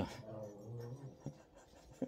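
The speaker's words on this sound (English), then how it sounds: "My dog has decided to intervene." A dog makes brief whimpering, panting sounds at close range, with a couple of short sharp bursts near the end, in a quiet room.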